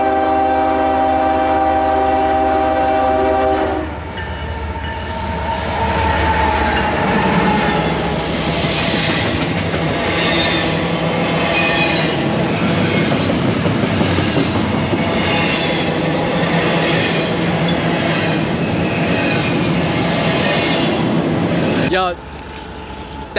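A loud train horn blasts, then a train rumbles and clatters past close by for a long stretch before cutting off.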